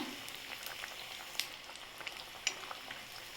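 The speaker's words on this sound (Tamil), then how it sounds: "நம்ம சிம்மில் வச்சே தாங்க நம்ம கட்லெட்டு செய்யணும்" Egg vada cutlets frying in a pan on a low flame, giving a steady soft sizzle with faint crackles and a couple of sharper pops.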